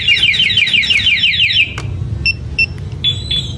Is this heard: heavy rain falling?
no